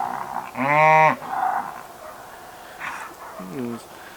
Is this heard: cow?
yes